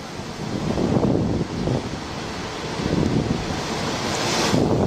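Storm surge from the East River spills over a seawall in New York during Superstorm Sandy, a loud, continuous roar of churning water and driving wind buffeting the microphone with no talk.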